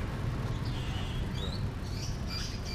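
An oriental magpie-robin (kacer) kept as a songbird gives a few thin chirping calls, faint over a constant noisy background hum.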